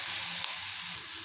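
Curry leaves hitting hot oil while taro is being fried, giving a brief, dense, steady hiss of sizzling and crackling that stays close and even throughout.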